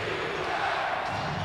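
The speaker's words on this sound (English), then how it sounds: "And the crowd is back in it with 7:40 remaining." A packed basketball arena crowd at a 1989 Chicago Bulls versus Cleveland Cavaliers game roars steadily, a dense continuous wall of cheering and noise without a break.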